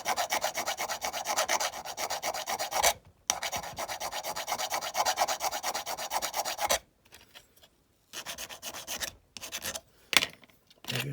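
A hand file is worked flat across a part of a diecast Matchbox K-10 Scammell pipe truck, giving close, rapid rasping strokes in long runs, then shorter broken bursts with pauses.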